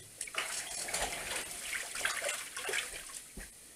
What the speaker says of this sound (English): get my hands washed.